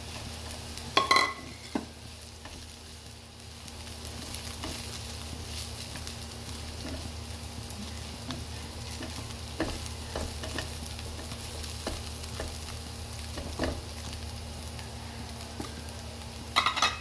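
Ground meat stir-fried in a little oil for a chowfan-style breakfast, a steady sizzle with spatula scrapes and occasional clanks against the pan throughout.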